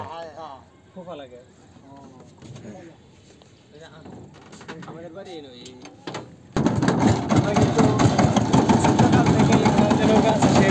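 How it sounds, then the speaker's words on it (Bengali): A river-crossing boat's motor on the Brahmaputra starts abruptly partway through and runs loud and steady at close range; before it kicks in, people are heard talking. "নৌকা দিয়ে আমরা পারাপার হচ্ছি।"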